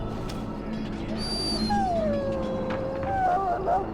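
Muzzled dog in a pen in Dragon Age Origins, giving drawn-out high whimpers and a wavering whine that rise and fall over a steady ambient bed, fairly close and clear.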